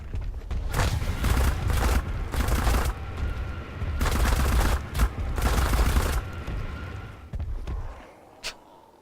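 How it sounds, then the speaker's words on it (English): Rapid automatic gunfire in the video game ARK: Survival Evolved crackles in several loud, dense bursts separated by short pauses, ending with a single isolated shot; close and harsh, with no talking. "Like a machine gun."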